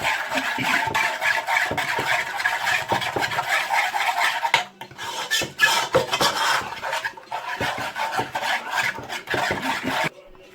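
Chicken pieces being worked by hand with tikka masala spice mix in a bowl, a steady close rubbing and squelching rasp with brief pauses and a few clinks of the bowl, no talking.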